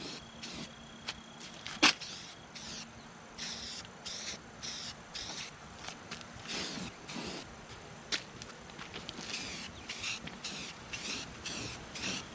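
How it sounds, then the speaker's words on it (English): Spray can of filler primer misting onto a car fender in short repeated hissing bursts of even rhythm, close and steady, with no talk. "now I'm going to lightly touch up these areas that I feathered with filler primer"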